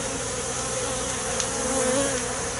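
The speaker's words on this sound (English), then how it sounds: "in front of the hive I've seen bees come and go, and they come with pollen" Honeybees buzz around a hive entrance in a close, continuous droning hum, with individual bees briefly swelling louder as they fly past.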